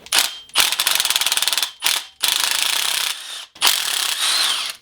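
An impact wrench removing parts from a Minn Kota Terrova bow-mount trolling motor, loud and close, firing in several bursts of rapid hammering rattles separated by short pauses, with no talking.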